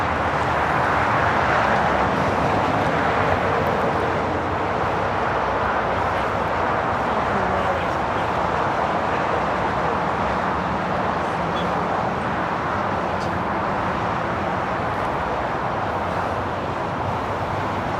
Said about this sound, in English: the flight heading to Newark, United Airlines, flight 3043, a 787-9 Dreamliner